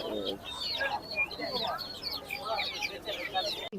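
Silkie chickens and other fowl at a busy Tongi poultry and bird market, clucking and chirping close by in short, overlapping bursts beneath people talking.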